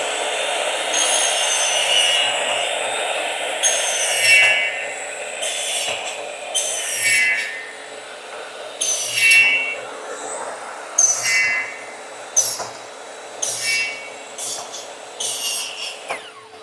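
Woodworking machine cutting wood in a recycled-materials workshop, a cyclone dust collector on a household vacuum running underneath, with a steady roar and a series of loud, irregular cutting bursts over it, close by.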